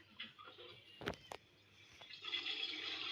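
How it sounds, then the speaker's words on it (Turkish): A toilet flush gurgles and rushes quietly in a home bathroom, a soft burst of water building toward the end after a few brief knocks. "Sifonu çek anneciğim."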